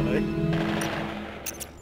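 Rapid automatic gunfire from Call of Duty 4 Modern Warfare in GL mode, a short burst of close, sharp shots over game ambience, followed by a couple of distinct bright reports near the end.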